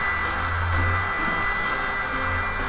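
A mini USB vacuum cleaner for keyboards runs steadily, a loud close whirring motor hum with a constant airy whine and no change in pitch, alone without talk.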